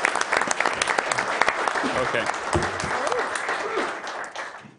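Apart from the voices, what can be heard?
council meeting audience clapping for Jared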